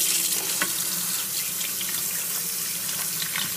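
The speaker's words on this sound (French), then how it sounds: "D'abord, je vais les rincer un peu à l'eau froide." Cold tap water runs steadily into a sink to rinse freshly boiled potatoes, a constant close hiss and splash with a few small splatters as the water hits them.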